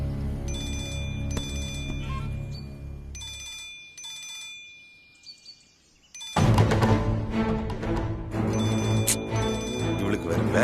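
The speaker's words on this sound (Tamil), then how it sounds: "ஃபோன் அடிக்குது, யாருன்னு தெரியல." A telephone rings in repeated bursts in a Tamil TV serial scene. The ringing pauses briefly, then resumes louder alongside other background sound.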